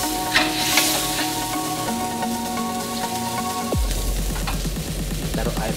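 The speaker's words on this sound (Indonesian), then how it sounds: "Terus diaduk-aduk merata" Fish sauce simmers in a pan with a steady bubbling sizzle while it is stirred with light scraping strokes. A tonal hum drops away partway through, leaving louder bubbling.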